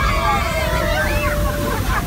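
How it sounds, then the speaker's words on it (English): An amphibious bus plunges into water with a continuous heavy rushing splash and sloshing, loud and close, while a crowd's voices babble underneath. "Huge splash!"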